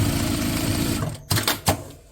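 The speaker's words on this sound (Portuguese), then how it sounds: "Vou passar uma costurinha em cima," An electric sewing machine runs a steady, rapid stitch along a slim toiletry pouch, then stops, followed by two short clunks of handling.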